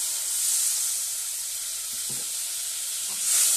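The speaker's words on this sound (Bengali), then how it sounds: "আমি এবার মাছটা সেদ্ধ হওয়ার জন্য জল দিয়ে দিচ্ছি পরিমাণ মতো।" Water poured into a sizzling, frying spice paste for a Bengali banspata fish kalia curry, giving a steady, close hiss with a few soft stirring knocks, briefly swelling louder at the end.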